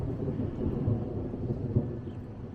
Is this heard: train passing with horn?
no